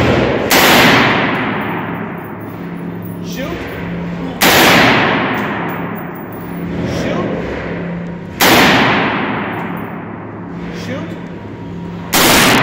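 A G36 rifle fires at a target outdoors, four single loud shots spaced roughly four seconds apart, each a sharp crack trailing into a long echoing decay that fades before the next.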